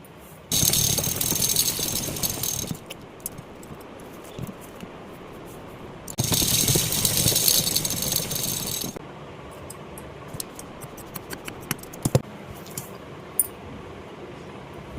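A sewing machine stitches fabric for a makeup pouch, running in two loud bursts of steady rapid mechanical whirring, each a few seconds long, separated by quieter handling clicks and small taps.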